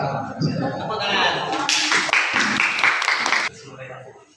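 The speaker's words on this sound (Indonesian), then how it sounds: "Tepuk tangan." A small audience claps after a presentation in a short, moderately loud burst of applause that stops abruptly, with voices heard just before it.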